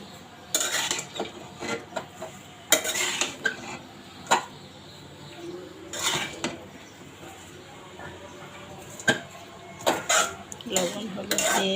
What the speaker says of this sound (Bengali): চলেন আগে এগুলো সুন্দর করে মিশিয়ে নিই